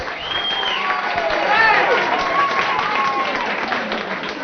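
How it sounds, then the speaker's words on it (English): Pub quiz crowd in a tavern applauding a team during a radio-broadcast pop quiz, a sustained burst of clapping mixed with cheers and lively chatter, fairly loud and close throughout. "How about a round of applause for the Tunstall Assurance?"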